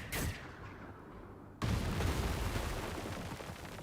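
A mortar squad fires in the World War II strategy game Headquarters: World War II. A brief thump comes first, then a loud, deep boom that rolls on and slowly fades. No one speaks.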